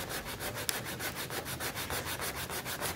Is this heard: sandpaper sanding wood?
yes